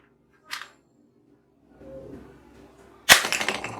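A toy AK-47 fires plastic bullets, first with a short faint snap, then a brief rustle, then a loud sharp crack followed by a rattling clatter.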